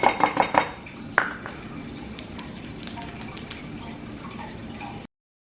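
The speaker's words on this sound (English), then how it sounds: "I'm just shaking it a little bit to, you know, strain it faster." A metal kitchen strainer is shaken to drain liquid faster, giving a quick run of rattling clinks at the start, then a single sharper clink followed by steady dripping and trickling.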